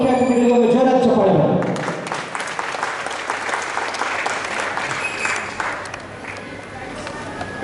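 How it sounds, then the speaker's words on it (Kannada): A voice speaks briefly, then a crowd at a stage event breaks into loud, sustained applause for the performing artists and chief guests, thick clapping that holds steady to the end. "ಎಲ್ಲ ಕಲಾವಿದರು ಹಾಗೂ ಮುಖ್ಯ ಅತಿಥಿಗಳಿಗೆ ಒಂದು ಜೋರಾದ ಚಪ್ಪಾಳೆ"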